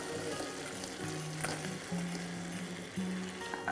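Marinated crab dropped into a pan of sizzling onion-tomato masala, continuous frying sizzle with brief stirring scrapes, close and without talk.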